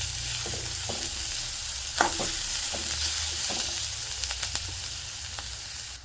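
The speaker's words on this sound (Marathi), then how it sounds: "इथे कांदा गुलाबी रंगाचा होईपर्यंत परतून घ्यायचा आहे चांगला" Onion and crushed garlic cloves sauté in a pan until pink, giving a steady close sizzle broken by scraping stirs and a few sharp spatula clicks, with no talking.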